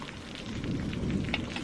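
A dense wash of rain pours steadily with a low rumble beneath it, no voices.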